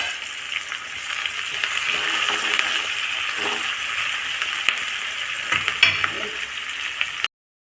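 Onions, green chillies and curry leaves fry together in a pan with a loud, continuous crackling sizzle and a few stirring scrapes. The sound cuts off abruptly just before the end.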